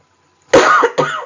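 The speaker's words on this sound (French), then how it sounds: "J'ai du mal à me débarrasser de cette toux qui revient régulièrement." A woman suffering from a recurring cough lets out two harsh, close coughs in quick succession, loud and throaty, breaking a silence.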